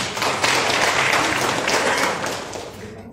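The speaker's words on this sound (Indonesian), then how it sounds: "mari kita aplaus sekali lagi untuk Bapak-Ibu semua" An audience at a morning ceremony claps in a dense burst of applause that stays loud and steady for a few seconds, then tapers off gradually.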